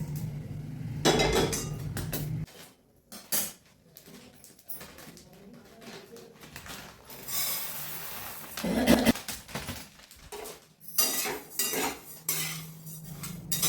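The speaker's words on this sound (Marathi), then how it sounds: "तीळ भाजून झाले आता धने भाजायला घेतले" Coriander seeds dry-roasting in a pan over a low gas flame rattle and scrape as a metal spoon stirs them, giving close, irregular clinks and scratchy bursts with short gaps between.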